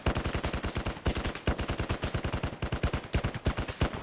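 Automatic gunfire in the Arma 3 combat video game: rapid, evenly spaced shots come in several sustained bursts with brief gaps between them, loud and close, with no voices.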